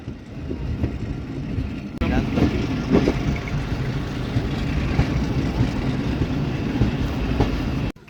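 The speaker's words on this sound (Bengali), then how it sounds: "মাত্র 1 মিনিট যাত্রা বিরতি দিয়ে আমরা আরকান্দি রেলওয়ে স্টেশন ছেড়ে যাচ্ছি" A passenger mail train pulls out of Arkandi railway station, its steady low rumble and rolling wheel noise heard from inside the carriage, rising slightly in loudness after a couple of seconds and continuing without pause.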